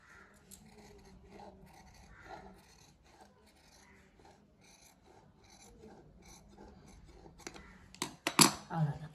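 Scissors cut a V shape into jacket fabric, making faint, soft rasping snips and scrapes through the cloth, with a murmuring voice nearby and a louder clatter near the end.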